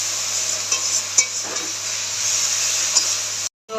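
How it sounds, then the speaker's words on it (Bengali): A turmeric spice paste fries in a pan with a steady, close hiss, broken by a few brief scraping stirs before a short sudden silence near the end. "মশলাটাকে ভালো করে ভাজবো যেন কাঁচা গন্ধ না থাকে"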